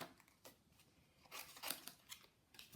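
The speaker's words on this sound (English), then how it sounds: "And then I'm going to also trim the happy birthday" Scissors trimming a paper birthday greeting for a handmade card: a few faint, close snips and crisp paper rustles in a quiet room.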